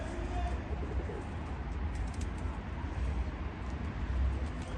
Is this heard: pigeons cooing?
yes